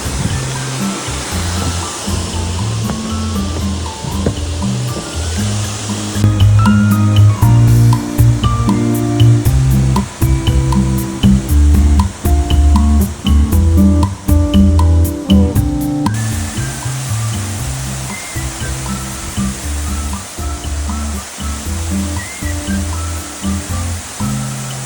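Love Waterfall near Sapa, Vietnam pours in a loud, continuous broadband roar, close by and steady throughout, with no voices over the rushing water.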